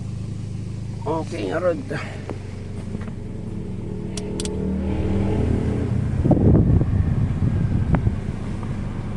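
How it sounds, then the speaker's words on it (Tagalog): A Toyota Vios engine, previously overheating and misfiring, is restarted and settles into a steady idle hum, rising slightly toward the end while someone speaks over it. "Tapos i-start ko ulit itong makina."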